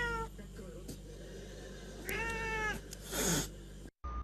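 A house cat meows repeatedly, a couple of drawn-out plaintive cries close by over a low background hum, ending with a brief cut-out.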